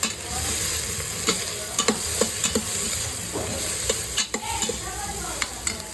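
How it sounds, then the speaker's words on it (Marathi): Tomato sautéing in a pan with turmeric and chili powder, a steady close sizzle broken by repeated scraping taps of a spoon stirring through the mixture, no voices. "आता टमॅटो पण थोडा परतून घेणार आहे मी"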